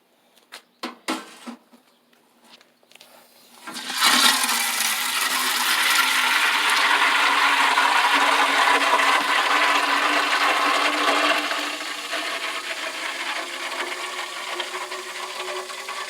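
Water sprays steadily from a hose onto garden plants such as ginger and herbs, a loud continuous rushing hiss that starts after a few clicks and runs on alone.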